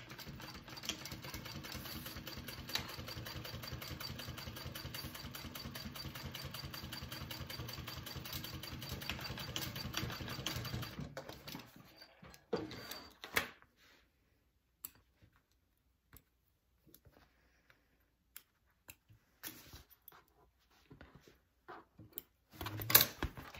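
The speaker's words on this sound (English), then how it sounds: "Okay, so sew at 1/4 seam allowance now." A sewing machine runs a steady, fast stitching rhythm along a quarter-inch seam on a handbag, continuing for about eleven seconds before stopping, followed by scattered faint clicks and handling noises.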